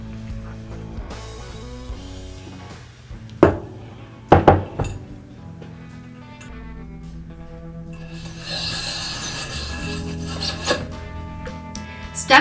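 A bronze brush scrubs back and forth inside an over-under shotgun barrel, giving a steady metallic rasping with a few sharp clanks and scrapes near the middle, close and continuous with no talking.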